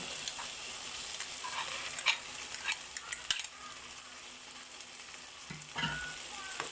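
Ground meat sizzling and frying in a pan, a steady close crackle with occasional stirring clinks and scrapes, no voices.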